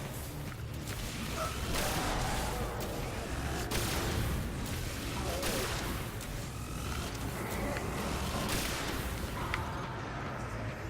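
Sustained gunfire from a weapon in the first-person shooter Destiny, a Titan fighting through a level, with repeated bursts and booming impacts spread across the whole stretch amid dense game action.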